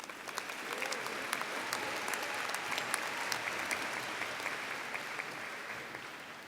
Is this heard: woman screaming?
no